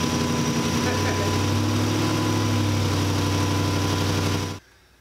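A Dodge Durango engine idles steadily with a low, even droning hum, close and loud, before cutting off abruptly near the end.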